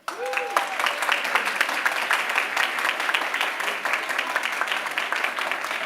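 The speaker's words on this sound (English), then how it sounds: "Huge round of applause for Anna Dixon" A school board of trustees meeting crowd gives Anna Dixon a sustained round of applause, dense steady clapping from many hands throughout with a brief tone at the start.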